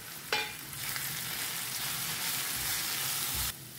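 Spices and masala (coriander powder, turmeric, garam masala) stirred in a hot cooking pan, a steady close sizzle with scraping stir strokes throughout, one sharper knock near the start.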